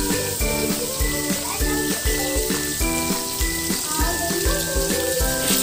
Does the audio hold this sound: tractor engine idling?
no